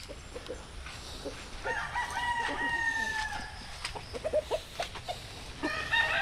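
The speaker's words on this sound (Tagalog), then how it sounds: "may manok." A rooster crows several times on a small farm, with clucking fowl nearby, moderately faint against a quiet outdoor background.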